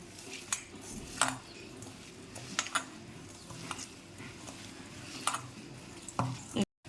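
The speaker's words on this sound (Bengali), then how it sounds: "কাঁচা লঙ্কা আর কালো সর্ষে বাটা, দেব নারকেল কোড়া আর সামান্য একটু হলুদ। আমি সবগুলোকে একসাথে মাখিয়ে নেব।" Taro is mixed by hand with green chili, black mustard paste, grated coconut and turmeric in a bowl, giving soft squelching and scraping with a few sharp clicks against the dish, close and fairly quiet.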